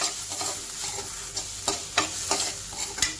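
Onion sizzles in a little oil with curry leaves and asafoetida in a pan, a steady frying hiss broken by a few louder stirring scrapes, close and alone.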